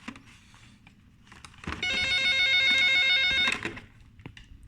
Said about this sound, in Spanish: Permítanme tantito el teléfono, déjenme lo desconecto